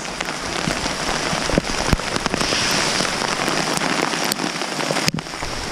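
Hail pelting down outdoors near a backyard trampoline, a steady hissing patter of ice pellets with scattered sharper close impacts, continuous and fairly loud.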